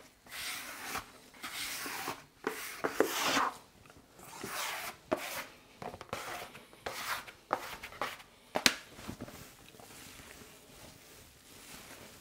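A scraper works Christmas stollen dough on a surface in irregular soft scrapes and dull thumps, close and fairly quiet.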